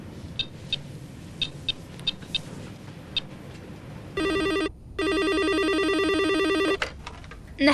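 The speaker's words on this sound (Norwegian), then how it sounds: "Jeg får en annen telefon her." A telephone rings in two long electronic trilling bursts, loud and close, the second burst longer, after several short faint chirps over a quiet room.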